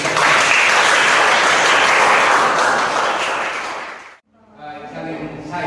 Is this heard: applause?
yes